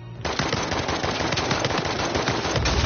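Sustained automatic gunfire from an online Uncharted 4 match, dense rapid bursts of shots firing continuously and loudly for the whole stretch with no talk over it.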